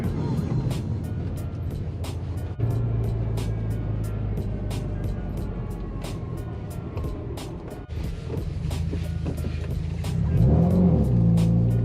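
A 2011 Subaru WRX with all-wheel drive idles and rumbles steadily from inside the cabin while parking near Mille Lacs Lake, the engine note rising slightly near the end, with a steady ticking over it.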